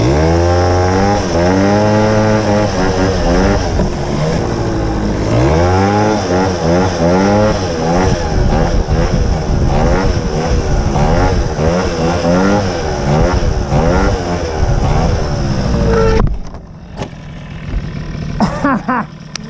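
Suzuki LT-80 two-stroke ATV engine revving hard through a wheelie, a loud, buzzy, wavering whine rising and falling for about sixteen seconds before cutting to a quieter idle and rattles.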